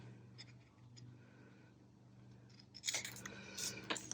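Scissors snip through junk mail paper in a quiet room: a faint low hum, then a cluster of crisp, close cutting sounds near the end.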